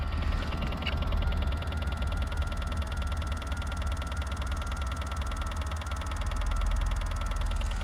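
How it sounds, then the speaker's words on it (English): Steady mechanical ratcheting and clicking from the steering wheel of a 2021 Ford F450 truck, a continuous rapid pawl-like chatter with a faint creak, close and even in level for the whole stretch, with no talking. "That's the noise in the steering wheel I was talking about."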